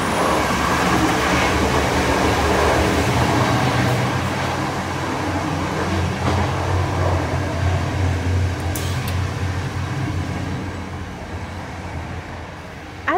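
A Eurocity train travelling from Munich to Venice rumbles steadily from inside a passenger car, with a continuous low roar and faint rail clatter throughout, without voices.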